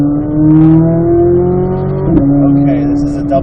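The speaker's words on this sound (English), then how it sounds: "It's downshifting." A Cadillac Escalade V on a race track engine braking through a downshift, its loud steady engine tone stepping abruptly in pitch midway, heard from inside the cabin as someone talks over it.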